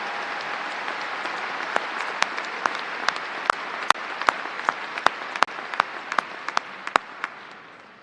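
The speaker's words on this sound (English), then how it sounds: "How about another round of applause, please, for our musicians?" An audience at a high school graduation ceremony gives musicians a sustained round of applause, a steady wash of many hands with sharper individual claps standing out, fairly near and without talk.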